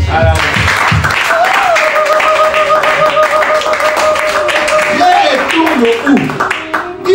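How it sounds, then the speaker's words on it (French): Church congregation applauding, a dense continuous wash of clapping mixed with voices and a sustained sung or shouted tone. "Applaudissez d'abord."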